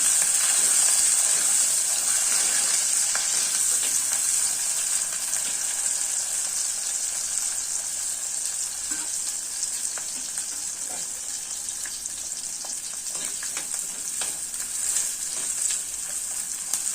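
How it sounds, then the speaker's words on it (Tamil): Two whole heads of large country garlic sauté in a pan for a curry-leaf garlic kuzhambu. A steady hissing sizzle runs throughout, with occasional light pops and the scrape of stirring. "அதையும் போட்டு நம்ம நல்லா வதக்கிக்கலாம்."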